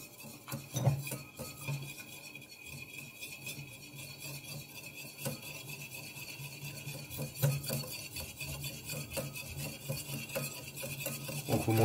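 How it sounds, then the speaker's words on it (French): Steady whisking of a classic vinaigrette in a bowl as olive oil is worked in, a continuous scraping, rasping stir with a few louder clinks of the utensil against the bowl, close up and without voices. "vous montez comme une vinaigrette classique. Vous mélangez bien."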